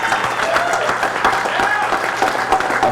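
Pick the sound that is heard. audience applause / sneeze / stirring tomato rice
audience applause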